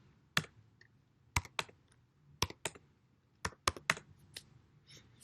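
Numbers tapped out on a computer keyboard, about a dozen sharp, close key clicks in uneven bursts over a quiet background.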